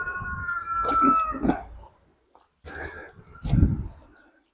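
Roosters crow in drawn-out calls, one after another, at moderate distance with some background noise, near a car lot in Warsaw.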